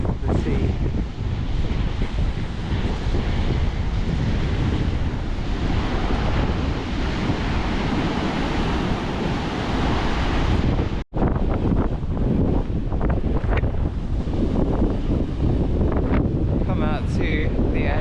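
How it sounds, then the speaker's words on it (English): Sea waves on the Cornish coast rolling in as a broad, continuous rush, heavily mixed with gusting wind buffeting the microphone, with a brief cut near the end before the surf resumes. "There's very little in this world quite so wonderful as the sea."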